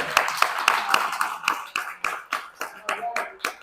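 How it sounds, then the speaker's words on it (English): Audience at an empowerment workshop breaks into a round of applause, a brisk run of distinct, closely spaced hand claps that stays fairly loud and even before gradually thinning out near the end. "let's give him a round of applause for real"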